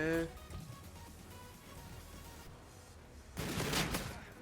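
A burst of Call of Duty: Infinite Warfare gunfire crackles near the end, following faint background game sounds with a brief voice at the start.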